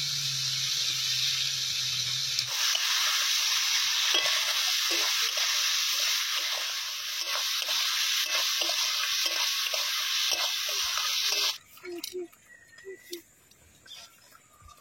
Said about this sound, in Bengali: এরপর কলা আলু ভাজা দিয়ে দিচ্ছে